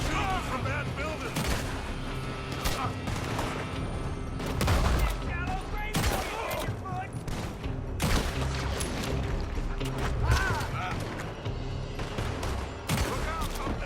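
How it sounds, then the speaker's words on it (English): Sustained shooting from a building in a Red Dead Redemption 2 gunfight, with repeated sharp shots and heavy booms in quick irregular succession, loud throughout, with shouting voices mixed in. "They're shooting from that building!"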